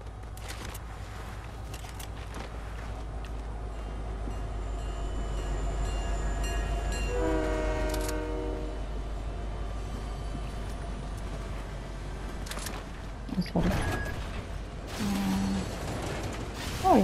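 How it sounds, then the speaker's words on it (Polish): A train ride in the video game Fortnite gives a steady low rumble of rolling wheels, with mechanical creaks, a rising whine in the middle and clunks near the end, alone without talk. "Dobra, wsiadam na pociąg zatem."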